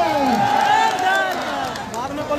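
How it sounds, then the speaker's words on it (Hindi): A crowd at an outdoor political rally in Dumri cheers and claps for a speaker. It makes a brief, loud, continuous wash of voices and applause that tapers gently. "मनोज दादा के लिए जोरदार ताली।"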